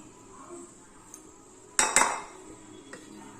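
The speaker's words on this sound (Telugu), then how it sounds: "కారము, ఉప్పు, చాట్ మసాలా అన్నీ మనము పెన్నం మీదకి వేసుకొని మొత్తం ఇవన్నీ కలిపేసుకుందామండి." Spoon stirring chili powder, salt and chaat masala into peanuts in a pan, a soft scraping bed broken by two sharp metallic clinks near the middle and a fainter tap later.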